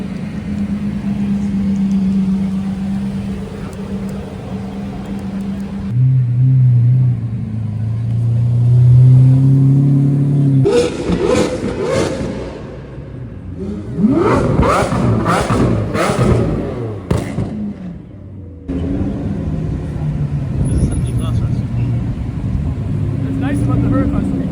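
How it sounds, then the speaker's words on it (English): Cars pull out of a winding-down Cars and Coffee lot with a rare Porsche 911 GT3 R Rennsport present. Engines idle and rumble close by, then one car revs hard and roars away in a loud burst before the idle returns. "we'll wait for some cars to leave here as the event's winding down"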